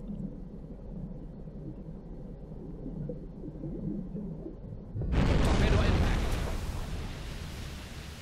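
A torpedo hitting a ship in the submarine game Silent Hunter 5 lands as a sudden deep, loud underwater boom that breaks a low rumbling hum midway and then rolls on as a broad roar fading slowly, with a voice faintly present.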